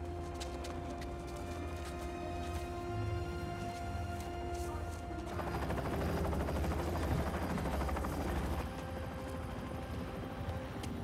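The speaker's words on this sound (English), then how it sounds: "This guy in his helicopter." Helicopter rotors drone steadily through a Spider-Man 2 game scene, a low continuous thrum layered with game music and effects, growing denser and busier midway as the action intensifies.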